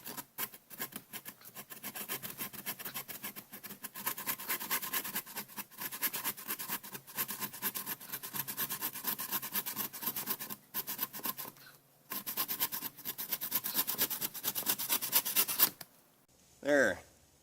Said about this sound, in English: you can see it just rips right through the wood